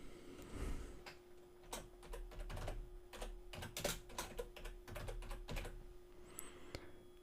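A banner name typed on a computer keyboard while building a WooCommerce site, heard as a steady run of light key clicks at an uneven pace, close and quiet over a faint electrical hum.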